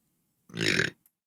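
A single loud, close burp lasting about half a second in a quiet room during a casual podcast, followed by a tiny faint click.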